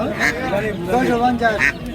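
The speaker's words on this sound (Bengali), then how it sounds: "এটা কি হাঁস? চীনা হাঁস।" Chinese ducks quack at the traditional Ashulia market near Dhaka, giving several loud, nasal calls close by in quick bursts while people talk over them.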